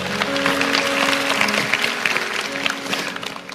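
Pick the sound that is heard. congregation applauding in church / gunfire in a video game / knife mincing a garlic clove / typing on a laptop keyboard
congregation applauding in church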